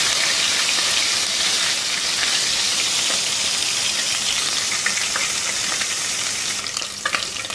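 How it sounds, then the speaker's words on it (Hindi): Garlic-ginger paste sautéing in hot oil makes a steady, dense sizzle and crackle that runs loud and unbroken, with a few sharper spits near the end and no voices. "1-2 मिनट सौते करेंगे इसको।"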